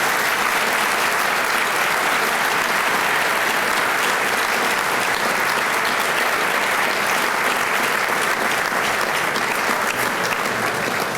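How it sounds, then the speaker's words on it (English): A large audience at an anniversary luncheon claps steadily and loudly for Ambassador Davis, a dense, unbroken ovation lasting about eleven seconds with no talk. "I ask for a special round of applause for Ambassador Davis"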